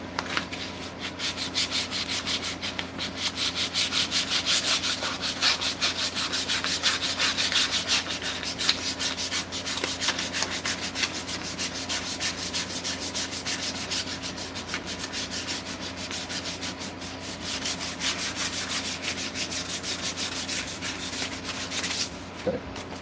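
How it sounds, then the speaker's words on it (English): Sanding a wooden axe handle by hand, a continuous close rasping rub with steady back-and-forth strokes running throughout at even loudness, no talk. "So what I'm going to do is I'm going to sand this up."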